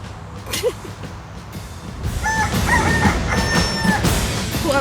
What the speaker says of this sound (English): The most disinterested chicken in history.